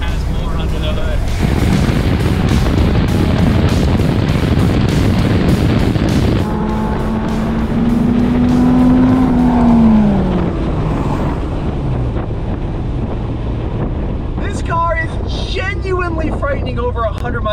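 A Dodge Viper RT/10 pulling hard in second gear during a drag race, a loud rising engine roar heavily buffeted by wind noise, with someone talking over it throughout.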